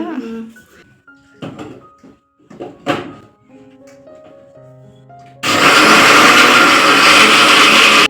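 A mixer grinder starts up loud and whirs steadily, blending coriander masala for a biryani; the motor roar runs continuously after a few seconds of faint kitchen clatter.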